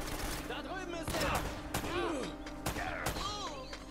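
Gunfire in the game Uncharted: Drake's Fortune, several sharp shots ringing out over a busy game soundscape, with someone talking over the action.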